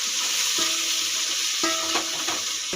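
Vegetables for a vegetable pulao sizzle steadily in a hot pan, a close, continuous frying hiss broken by a few light clinks and scrapes of stirring.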